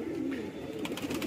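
Magpie pigeons kept for sale, several males together, give low continuous cooing, close and steady, with a few brighter wing or movement sounds near the end and no talk.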